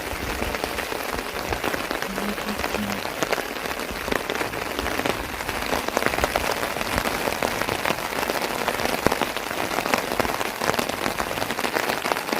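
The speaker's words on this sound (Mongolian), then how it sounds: "Батүлзээ сумын нутаг дэвсгэрт 2-3 өдөр үргэлжлсэн бороо орно гиндээ." Heavy rain falls steadily and densely on the ground and surfaces during a multi-day downpour in Uyanga area of Övörkhangai, Mongolia, a constant close hiss with no talking over its full length.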